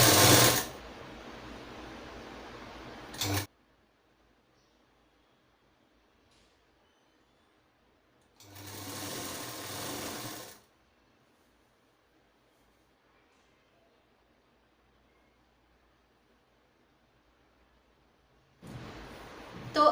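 Sewing machine stitching the side seams of a designer top, running in three separate bursts: one a few seconds long at the start, another mid-clip, and a short one at the end, with near silence in between.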